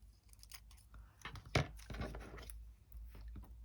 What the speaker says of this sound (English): Let me just cut them apart,